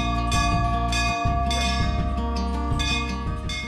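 A sensor-triggered temple bell rings without being touched, sounding repeated bright metallic strikes with long sustained overtones that overlap into a continuous loud chime, heard alone.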